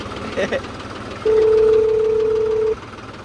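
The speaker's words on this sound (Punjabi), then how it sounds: "ਇਹ ਫੋਨ ਆ ਗਿਆ" A phone rings on a farm with a tractor and new 10x10 harrow, one steady electronic ring tone lasting about a second and a half, loud over a low engine rumble, with brief talk just before it.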